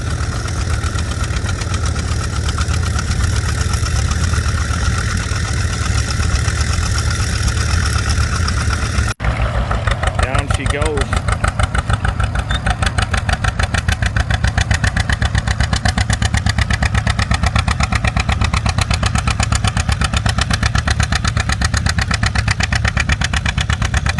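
An antique Allis-Chalmers WD tractor engine labors while plowing at an antique equipment plow day, a loud, steady chugging that settles into a faster, pulsing beat partway through.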